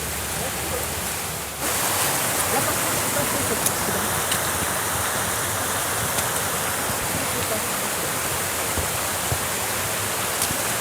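A stream with waterfalls in the wild Dadou valley near the Arifat cascades rushes steadily, a dense continuous wash of water noise that swells slightly after the opening seconds, close and loud throughout.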